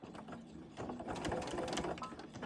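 Sewing machine stitching through four layers of fabric plus a fusible layer for a chap stick holder, a steady mechanical whir that starts softer and grows louder and denser after the first second, running alone without talk.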